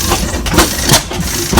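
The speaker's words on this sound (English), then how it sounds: "Reed City gas engine" A Reed City hit-and-miss gas engine runs at an engine show, close and loud, giving rhythmic chuffing bangs and clanks spaced a fraction of a second apart over a background rumble.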